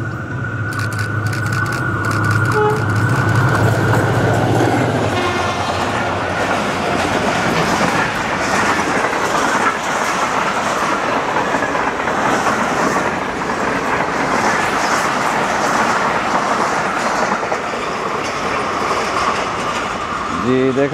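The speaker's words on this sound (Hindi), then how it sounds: "फराटे भरती हुई ट्रेन गुजरी पीरागार रेलवे स्टेशन से इस वक्त" The Tezgam express train rushes through Piran Ghaib railway station in Multan, loud and close, with rumbling wheels and rhythmic clickety-clack of wagons sustained for about twenty seconds.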